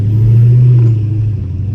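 A Dodge Hellcat drives with its newly fitted replacement engine, giving a loud, close, steady low rumble that swells briefly and then settles.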